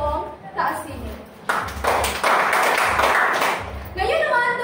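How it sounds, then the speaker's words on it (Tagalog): Five rhythmic claps from a classroom group, given as applause for two presenters, punctuated by sharp broadband bursts amid voices talking. "bibigyan natin ng 5 palakpak si Ginoong Raymart at Ginoong Taasini"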